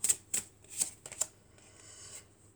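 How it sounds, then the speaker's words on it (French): A tarot card drawn from the deck: several quick crisp card snaps and flicks close up, followed by a soft papery slide fading out. "Et on va prendre une dernière carte."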